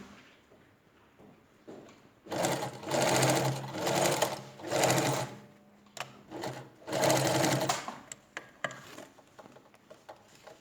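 A sewing machine stitches the opening of a fabric pocket in several close, rapid bursts of whirring, pausing briefly between runs, with soft handling clicks and rustles near the end.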